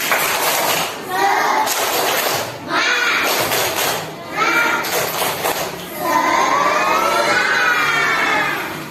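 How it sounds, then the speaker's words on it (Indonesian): Children in a classroom perform a tepuk semangat clapping chant, with bursts of rhythmic clapping and chanting voices in several waves, near and loud, followed by a higher voice continuing. "Kita tepuk semangat dulu."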